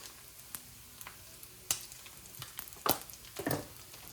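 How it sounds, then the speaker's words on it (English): Bacon fries in a pan, sizzling steadily with scattered sharp pops and crackles, faint and close, with no talk over it. "We're going to stir this bacon just a minute, start to pop a little bit."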